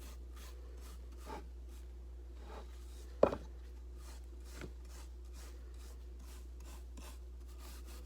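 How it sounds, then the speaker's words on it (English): A soft brush repeatedly strokes sand off a plaster cast of an animal track, making faint rhythmic scratchy swishes with one sharper scrape in the middle. "I'm brushing very gently so I don't disturb."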